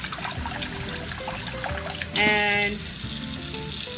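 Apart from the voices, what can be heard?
water slowly poured through a hand into rice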